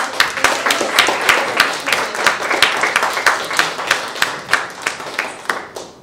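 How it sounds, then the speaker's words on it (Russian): An audience at a book presentation claps steadily for about six seconds, a dense, even applause that fades slightly at the end, with no talk over it. "можно аплодисментами еще более громкими поддержать"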